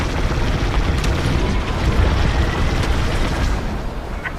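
A communications dish blowing apart in Star Wars: Squadrons, a loud sustained explosive rumble with crackling debris that holds steady for several seconds before fading slightly.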